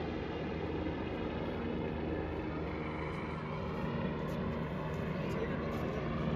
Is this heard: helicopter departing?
yes